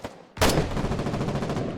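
Sustained burst of rapid machine gun fire in the war video game Foxhole, loud and close, starting abruptly after a brief quieter moment and rattling on steadily to the end.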